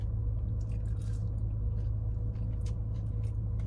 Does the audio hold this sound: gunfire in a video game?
no